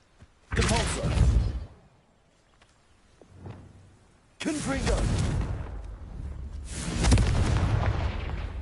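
Confringo blasting curse from Hogwarts Legacy going off as loud booming bursts, three heavy explosive blasts with rumbling tails separated by short quiet gaps, one smaller thud between them.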